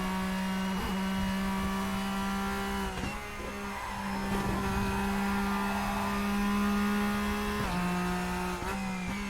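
A race car in the RaceRoom racing game runs flat out at top speed, its engine a loud, steady high-pitched drone broken by a few quick gear-shift dips.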